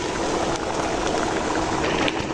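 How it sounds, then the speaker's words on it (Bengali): Hot mustard oil foams and hisses as a Bengali home tempering is poured in, a dense, steady, loud sizzle that runs unbroken the whole time. "সরিষার তেল দিয়ে বাগার দিব"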